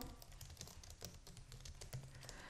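Steady typing on a computer keyboard, with rapid, fairly quiet keystrokes running continuously and no talk over them.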